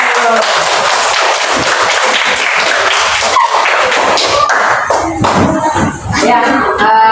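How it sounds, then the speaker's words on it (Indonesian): Schoolchildren in a classroom applaud their classmates with a dense, loud wash of clapping and thumping, with voices mixed in underneath. "berikan tepuk tangan kepada teman-teman"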